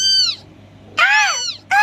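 A mother cat's loud, close meows: one drawn-out call, a pause, then another long wavering meow and the start of a third.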